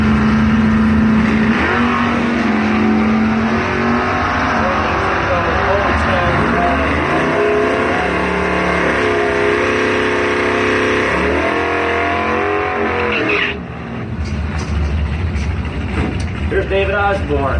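Drag race cars, a Mopar and a 1971 Camaro, rev hard and close in a sustained loud engine roar that drops away near the end, with an announcer talking over it.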